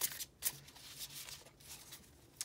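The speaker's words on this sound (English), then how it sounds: "And then just kind of doing a little overhand shuffle here." A new tarot deck with matte, not glossy, cards being overhand shuffled up close, giving a few soft, quiet papery rustles and flicks in short bursts.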